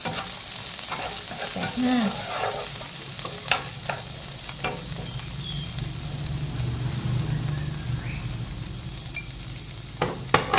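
Tiny rice shrimp stir-fry in a pan with a steady, even sizzle and occasional light scrapes and clinks, and a brief word of speech near the start.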